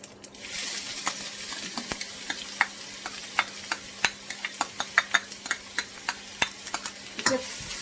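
Chopped onion sizzles steadily in hot oil with a crackle, punctuated by sharp pops and clicks like a spoon stirring in a pan; no voices.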